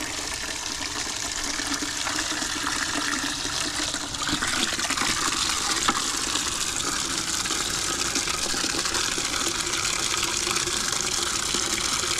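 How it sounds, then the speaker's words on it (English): Steady gushing water pours out in a continuous, fairly loud stream near a garage, holding an even level for about twelve seconds with no talk. "I know, watching water go."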